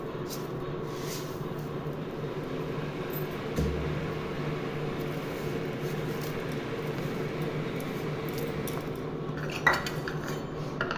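A spoon stirs a guava jelly mixture of water and sugar, faint scraping and occasional soft clinks against the vessel over a steady low background hum.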